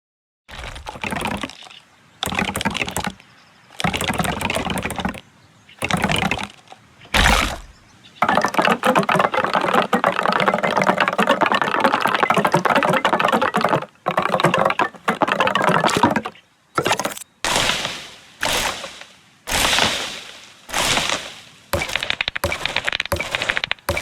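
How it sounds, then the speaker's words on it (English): Short bursts of crackling, clicking and crunching building and erasing effects from the video game Tiny Glade, separated by silences, with one longer continuous stretch of dense rustling, loud and close with no talking. "Building, moving, and erasing the various elements within the game is just so satisfying"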